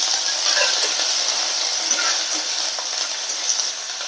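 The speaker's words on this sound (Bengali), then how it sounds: "কড়াইতে তেল দিচ্ছি, অল্প একটু সর্ষে দিচ্ছি, একটু কারি পাতা দিচ্ছি" Mustard seeds and curry leaves crackle and sizzle in hot oil in a wok, a steady, dense hiss with small pops running throughout at close range, with no voices.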